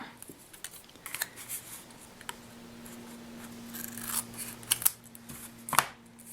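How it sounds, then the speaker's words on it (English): Scissors snip off the excess material on a handmade mini notebook purse, with several quiet, scattered crisp cuts and soft handling rustles in a calm room. "I'm going to then just cut off the excess here."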